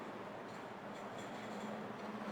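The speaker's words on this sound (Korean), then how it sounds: "벌써 제작을 마친 수소 트램." A five-car hydrogen tram, 35 m long, runs steadily along rails on a disused line, a continuous low rumble with a faint mechanical hum, no voices.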